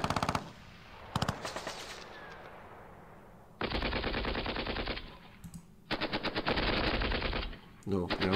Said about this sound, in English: let's fire with machine guns on them